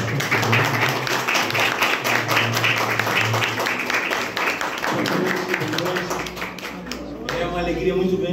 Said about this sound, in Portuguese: vou chamar aqui no palco uma calorosa salva de palmas, tá? O nosso Davi Lopes